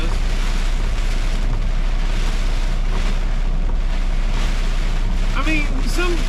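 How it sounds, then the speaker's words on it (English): Heavy rain pouring down around a moving truck, a dense continuous wash of hiss and spatter over a low steady engine and road rumble, loud and unbroken. "It's pretty cool to have it pouring down all around you like this."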